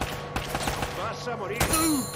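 Gunfire in the video game Uncharted: Drake's Fortune, with a few sharp shots among game sound effects and a rising tonal cue, loud and close.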